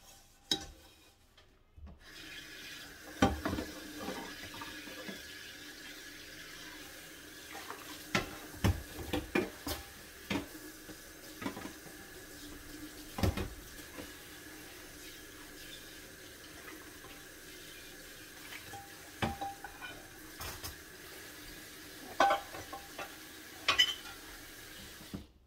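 Dishes being washed in a sink under a running tap, with a steady soft flow of water broken by frequent clinks and knocks of pans and plates, heard close and alone with no talk.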